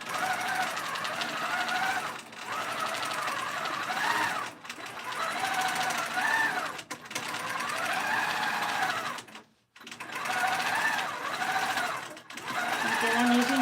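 Quilting machine stitching a thick pillow top on a Cutie frame with linen thread at six stitches per inch, a steady mechanical whirring hum running in bursts with short pauses and one full stop.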